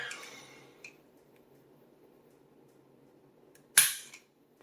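A single sharp snap of a Glock G43 trigger breaking during a trigger weight test, close and clear near the end, after a faint scrape and a quiet stretch.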